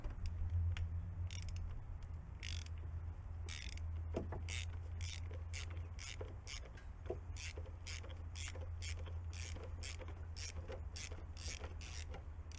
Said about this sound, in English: Now, using the ratchet, we can twist off the cap.